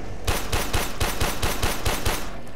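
Rapid, evenly spaced bursts of automatic gunfire from the game Warframe rattle continuously at close range, about four shots per second, with no talking.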